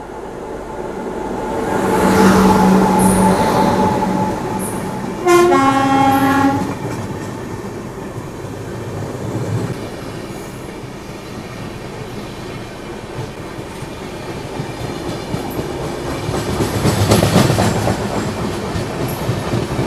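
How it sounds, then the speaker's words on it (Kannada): Karnataka Express passing close alongside the Bengaluru Rajdhani, heard from inside the stopped first-class AC coach, with a sustained horn blast, a repeated tonal horn, and a loud rushing rumble of wheels and cars swelling and fading. "Karnataka express overtaking Rajdhani."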